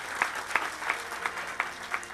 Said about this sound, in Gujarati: આના માટે મારા ગુરુ મહારાજને એકવાર તાળીઓથી સન્માન દેવું